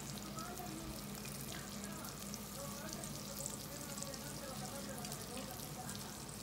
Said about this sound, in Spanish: Agregarle el caldo de pollo.